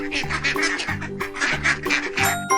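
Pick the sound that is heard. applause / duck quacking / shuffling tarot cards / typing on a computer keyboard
duck quacking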